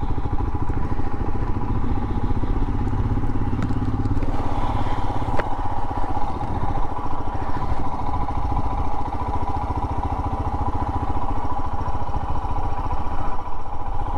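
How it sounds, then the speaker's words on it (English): Royal Enfield Himalayan or Scram motorcycle loping along in second gear on light throttle, a steady close thumping single-cylinder exhaust with some rattling, no voices. "You hardly need any throttle in second and it will just still quite happily kind of idle along."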